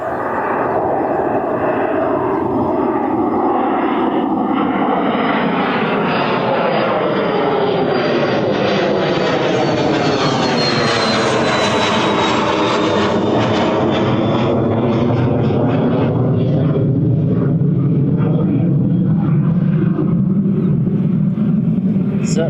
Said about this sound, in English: So that was off to Ibiza, little Embraer Phenom.